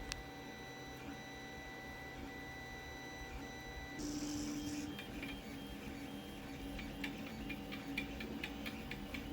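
A 3D printer resuming a recovered failed print hums and whirs steadily with a brief tonal beep-like segment, its motors stepping in fine ticking patterns throughout, fairly quiet and alone.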